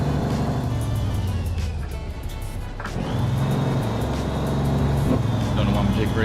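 A custom Kenworth W900 truck in American Truck Simulator grinds along with its engine brake stuck on, giving a loud, steady low rumble throughout. A rising tone near the end lifts over the drone as the engine note climbs, and a person talks over it.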